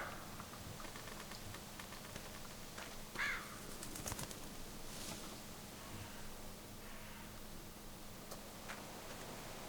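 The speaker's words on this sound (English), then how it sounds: "One bird's not worth it." A bird in The Walking Dead video game gives a few faint, brief chirps against a steady rain-like ambient hiss, with no talking.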